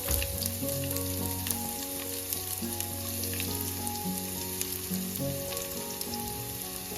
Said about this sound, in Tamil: கடுகு ஆட் பண்ணி அது பொரிஞ்சதுக்கப்புறம் 2 காஞ்ச மிளகாய் அது கூட நான் சின்னதாக சாப் பண்ண வெங்காயம் கூட நம்ம ஆட் பண்ண போகிறோம்